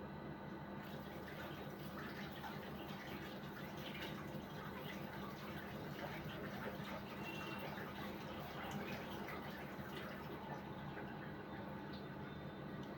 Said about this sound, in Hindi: मैं हैंड वॉश कर लूं फिर मैं दिखाती हूँ आपको।